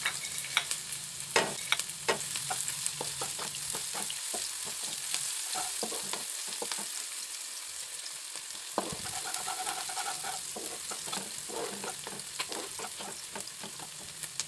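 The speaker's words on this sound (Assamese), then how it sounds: "এতিয়া পিঁয়াজখিনি ৰঙা হোৱালৈকে ভালকৈ ভাজি থাকিম।" Chopped onions fry in hot oil in a wok as a spoon stirs them, giving a continuous close sizzle broken by sharp scraping clicks and clatters. No one speaks.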